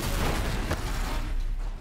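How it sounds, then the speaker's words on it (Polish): An ice thrower weapon fires in Horizon Zero Dawn: The Frozen Wilds, a dense rushing blast with one sharp burst, loud and continuous amid battle noise before fading at the end. "ja sobie teraz przygotuję miotacz lodu"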